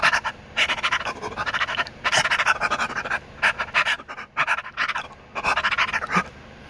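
A person imitates a dog panting, with rapid breathy huffs in repeated bursts separated by short pauses, close up.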